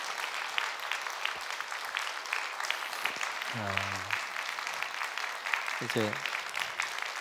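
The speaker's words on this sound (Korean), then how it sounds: "여러분 크게 박수 한번 해주시면 좋겠습니다." A church congregation at a Wednesday service claps to welcome three guests, a fairly soft, steady patter of many hands under brief speech, with two short voiced bursts partway through.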